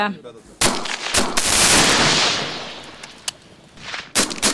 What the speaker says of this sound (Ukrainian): Умовну ворожу техніку нищать з РПГ.